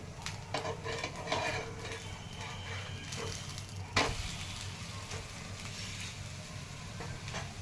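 A fasting (upvas) dosa sizzles on a hot pan just after being flipped, making a steady close crackle with soft scraping touches and one sharper clack midway. No one speaks.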